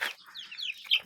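Andijan black chickens, a productive hybrid breed, cluck and chirp in short bursts, a few bright calls close by with quiet gaps between them.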